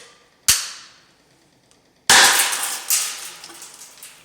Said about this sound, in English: Single barrel launcher with a larger round.